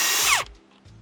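A Bauer impact wrench breaks a car lug nut loose in a loud, close, half-second rattling burst that stops abruptly, followed by a short quiet mechanical tail.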